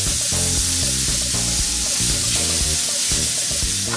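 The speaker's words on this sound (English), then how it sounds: "And then add some garlic, some of the homemade one. Stir that around with the butter." Garlic sizzles in melted butter in a pan while being stirred, a steady bright hiss that runs through the whole stretch, partly under background music.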